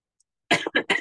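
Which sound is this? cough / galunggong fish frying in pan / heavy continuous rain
cough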